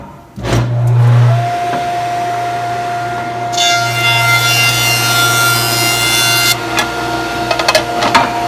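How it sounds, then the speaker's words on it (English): A table saw cuts a wooden board for a blanket chest. The motor whines and spins up to a steady hum, then a loud rushing cut runs for about three seconds before the blade spins on alone with a few knocks. "This one will be jointed and then table sawn."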